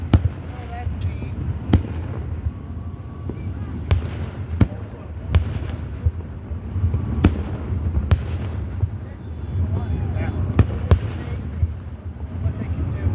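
Fireworks bursting over an outdoor display, a steady series of sharp booms and crackles at irregular intervals, some near and loud, others distant, with people talking and exclaiming throughout.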